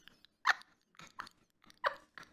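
A dog gives a series of short, sharp barks and yips, several separate bursts spaced unevenly, close and fairly clear against an otherwise quiet room.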